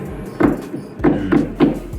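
Several drum hits land with a delay effect that adds a quick echoing ghost note right after each one, producing a flam-like doubled thud, played dry and close.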